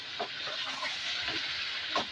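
Yogurt, onion and green chili paste frying in a white karahi, a steady soft sizzle with a few scraping stirs standing out, close and alone without talk.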